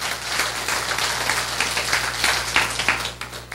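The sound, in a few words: applause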